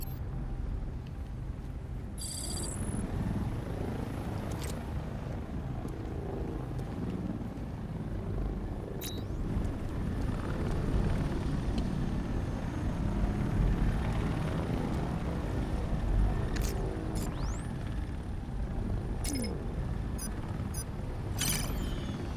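Enemy drones in Batman: Arkham Knight fly overhead with a sustained whirring, rotor-like drone, steady and fairly loud, joined by occasional sharp electronic clicks and blips.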